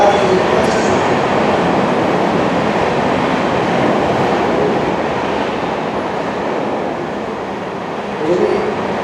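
A passing train gives a loud, continuous rumbling roar from nearby that holds steady and eases slightly toward the end, with no clear speech above it.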